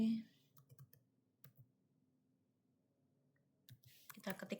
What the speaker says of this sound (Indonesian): Kita ketik manual aja